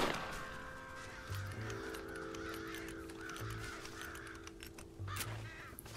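Crows cawing in the open-world western video game Red Dead Redemption, a few raspy caws repeating at a moderate distance over a quiet ambient background, with no speech.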